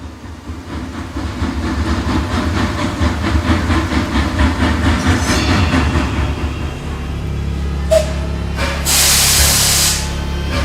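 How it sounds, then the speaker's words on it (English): A loud, continuous mechanical rumble with rhythmic clatter builds as a subway train nears through a tunnel, ending in sharp hissing bursts like brakes or air release. "the distant rumble of the approaching train reached my ears"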